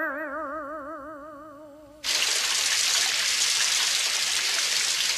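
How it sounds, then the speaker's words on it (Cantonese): Cartoon heavy rain in a Cantonese-dubbed Doraemon episode: after a warbling electronic tone, a dense, loud, steady hiss of pouring rain sets in abruptly and continues without let-up. "哎呀，日日都落大雨，"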